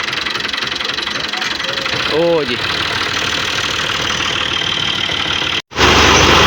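A tractor engine runs steadily at close range through the whole stretch, a continuous mid-pitched drone, with someone speaking briefly over it.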